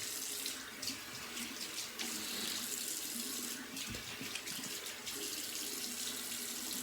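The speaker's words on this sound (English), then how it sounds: "Go into the cold water rinse" Cold tap water runs steadily into a sink for a post-shave rinse, a continuous hissing splash with small shifts as hands move through the stream, close and alone.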